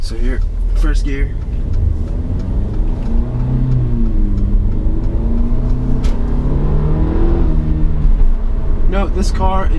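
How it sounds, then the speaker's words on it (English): A Mercedes CLA250 turbo four-cylinder engine growls and revs as it accelerates from first gear, the pitch climbing through the gears, with a person talking over it at the start and end. "this car, it doesn't sound too bad, being the turbo 4-cylinder it is"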